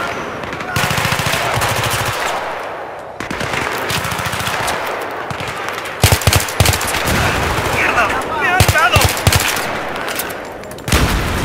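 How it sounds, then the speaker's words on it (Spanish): Heavy automatic gunfire in a Battlefield 3 battle, long loud machine-gun bursts and scattered shots with brief gaps, with a voice coming through briefly amid the shooting. "Recibimos fuego preciso"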